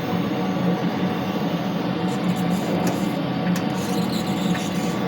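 A two-head DTF transfer printer runs a print-head cleaning cycle, giving a steady, loud mechanical whir and hum that continues without a break and without any talking.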